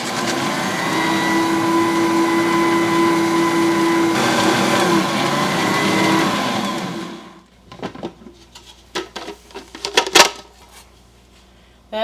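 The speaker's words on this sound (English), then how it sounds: "So then we're going to cream our butter and our sugar together." Electric mixer creaming butter with brown sugar for cookie dough, a steady loud motor whir for about seven seconds that then cuts off, followed by scattered clinks and bowl clatter.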